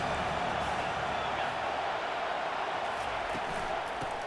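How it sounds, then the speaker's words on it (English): A stadium crowd roars steadily at a college football game, SMU at MSU, as fans rally behind the defense on third down; the dense, even wash of noise holds throughout with no clear talk over it. "Decibels rising as the crowd gets behind this defense on 3rd down."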